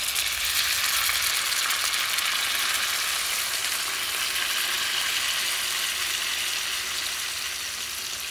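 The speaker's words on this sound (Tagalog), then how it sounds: "nag-caramelize na yung toyo, ilalagay na natin yung ating sabaw na Coke." Coke poured into caramelized soy sauce in a hot pan for Humba Bisaya sizzles and hisses loudly and steadily, a dense bright frying crackle throughout that eases slightly toward the end.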